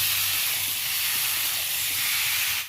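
Salted water saved from boiling potatoes hits a hot pan of spices for Bengali aloo dum, bursting into a loud, continuous steam hiss that cuts off abruptly.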